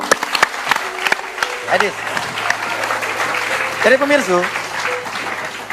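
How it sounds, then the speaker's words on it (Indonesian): Studio audience applause on an Indonesian variety show during a hypnosis segment. Clapping runs throughout under a voice talking to viewers. "Luar biasa, tepuk tangan dong."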